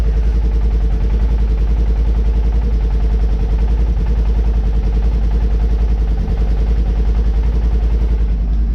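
A car engine running steadily at idle in park after starting, a loud, close, continuous low rumble with a constant even hum throughout and no voices.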